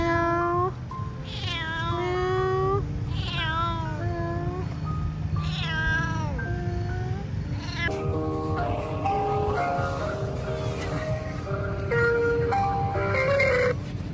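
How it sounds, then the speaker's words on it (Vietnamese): Several distinct meows from a calico cat in a cold setting, rising and falling in a repeated run of near, loud cries with a busy background of further voices or sounds after the midpoint. "Mèo tam thể luôn."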